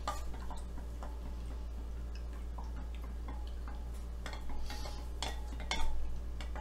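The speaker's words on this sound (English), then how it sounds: "Stir that up." Lemon juice being stirred into lemonade in a pitcher, with faint, steady clinks and light scraping spread across the clip, growing a little louder near the end, with no talking.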